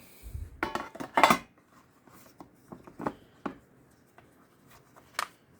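Latches on a Hewooh bento box being unlocked, several sharp plastic clicks and snaps, close and fairly quiet, separated by short pauses, with no talking.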